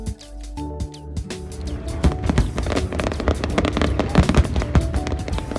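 Fireworks explode over Ottawa on a summer night, a dense run of crackling and popping bursts following a brief musical opening, fairly loud and continuous.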